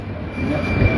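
A metro train in Naples rumbling close by, a steady low roar of wheels on rails that swells slightly toward the end of a short one-second burst, with no talk.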